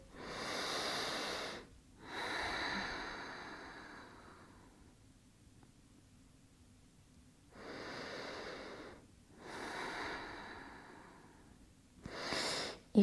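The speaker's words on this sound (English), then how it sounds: "Couple more breaths here." Slow yoga breathing during a vinyasa flow class, four or five long audible inhales and exhales, close and soft, with pauses between breaths.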